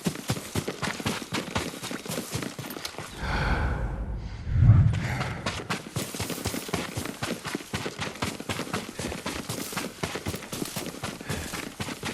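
Hooves of Yuriko's horse in Ghost of Tsushima, a steady clip-clop repeating throughout at moderate distance, broken midway by a brief snort or breathy gust.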